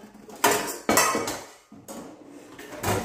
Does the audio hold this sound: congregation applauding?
no